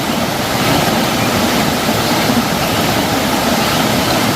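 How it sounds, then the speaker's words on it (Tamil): The Sambalar waterfall on the Kurangani trek pours into a pool with a steady, loud, broadband rushing roar that never changes. "இந்த சாம்பலார் வந்து அப்படியே விழுந்து இந்த இடத்துல குளம் மாதிரி நிரம்பியிருக்கு பாருங்கள்"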